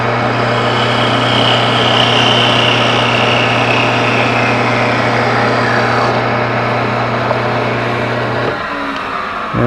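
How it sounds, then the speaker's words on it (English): A lathe hums with a steady motor tone while sanding a wooden ornament adds a soft rasping friction, then the machine winds down near the end. "we'll sand that and then we'll part it off the lathe"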